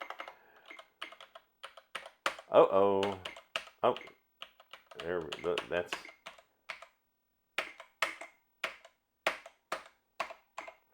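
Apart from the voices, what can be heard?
typing on Atari Mega ST computer keyboard during keyboard test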